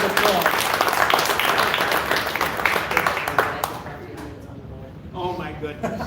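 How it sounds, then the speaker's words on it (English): Audience at a year-end live fishing show giving a big round of applause, loud dense clapping that thins out and fades toward the end, with voices chattering underneath. "Big round of applause."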